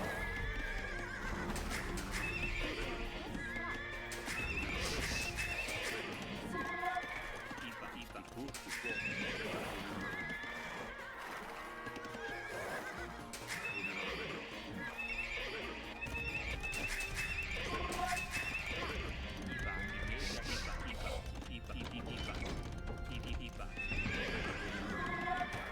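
Horses from the video game Age of Empires II neigh and whinny repeatedly over a steady clip-clop of hooves, dense game sound effects layered throughout.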